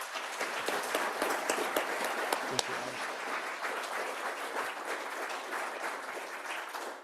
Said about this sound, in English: I'd like to have another rousing round of applause for Mark, please